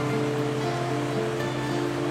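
Constant roar of the Fouge waterfall, where water drops over 60 m in a canyon, a dense steady rush heard alone without voices.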